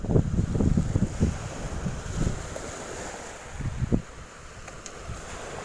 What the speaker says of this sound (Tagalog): Wala pa sana kahangin-hangin kanina eh. Bigla naman lumakas.